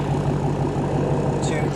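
A 700-horsepower 2016 Dodge Challenger Hellcat engine holds a steady, loud, low drone while staged for a standing-mile launch, with someone talking over it.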